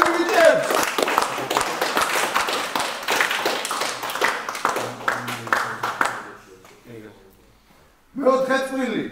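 An audience at a fight club face-off event claps in dense, sustained applause that gradually fades out, followed by a voice speaking over a microphone.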